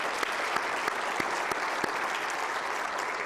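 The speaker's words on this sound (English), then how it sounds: "Please join me in giving them a round of applause." Steady audience applause fills a meeting room, dense continuous clapping with a few sharper individual claps standing out, holding at an even level throughout with no talking.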